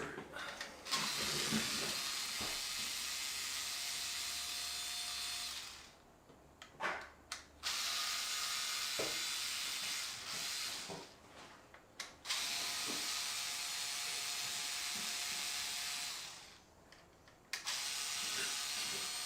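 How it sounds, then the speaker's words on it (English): Screws are removed with a powered driver during a computer rig rebuild, long buzzing whirs close by broken by short pauses and small clicks between screws. "Gotta love unscrewing stuff, it's fantastic."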